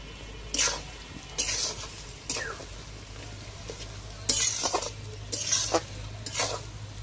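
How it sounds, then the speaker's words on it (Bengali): A spoon stirs green chili pickle frying in a pan with sugar added: about six distinct scraping strokes over a low, steady sizzle, close and moderately loud. "আমি আস্তে আস্তে করে নাড়াচাড়া করে আচারটা করে নেবো"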